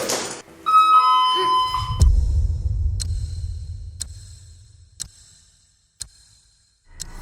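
An electronic chime plays a short melodic tone sequence, then single sharp beeps sound about once a second, over a fading low hum.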